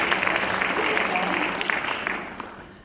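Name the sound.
audience applause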